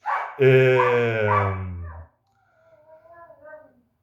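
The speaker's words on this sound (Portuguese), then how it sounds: "hoje nós vamos ter aula com a serenata dos meus cachorros aqui" Pet dogs at home barking and yelping close by, a loud run of barks followed by quieter whining yips.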